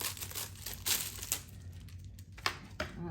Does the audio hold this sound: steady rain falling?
no